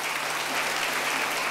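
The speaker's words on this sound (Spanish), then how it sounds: "Un aplauso para él." Steady audience applause fills the space without a break, a dense wash of many hands clapping at moderate loudness, with no distinct voices rising above it.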